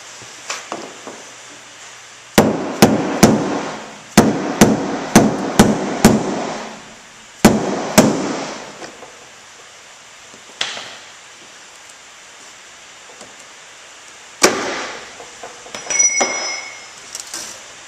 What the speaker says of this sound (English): Hit it with a hammer and a chisel to rotate it counterclockwise